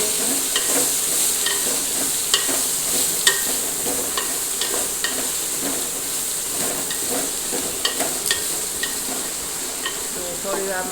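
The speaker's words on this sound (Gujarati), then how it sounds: "સમારેલા ભીંડા નાખી દઈશું આપણે. તેને બરાબર આપણે તેલમાં મિક્સ કરી દઈશું." Chopped okra is stirred in hot oil with curry leaves, giving a constant close sizzle with repeated light scraping and tapping of the spoon against the pan.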